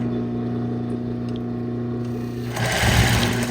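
Domestic sewing machine stitching a short run of fabric, a steady close whirring hum that swells into a brief louder burst near the end, with no talk over it.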